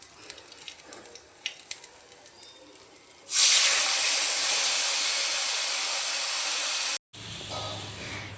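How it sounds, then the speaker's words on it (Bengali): Poppy seed and green chili paste drops into hot oil with black cumin for a Bengali potol posto, bursting into a loud, steady hiss that holds for several seconds, then cuts off briefly and resumes more quietly. "এর মধ্যে দিয়ে দেবো পোস্ত বাটাটা, পোস্ত আর কাঁচা লঙ্কার পেস্টটা"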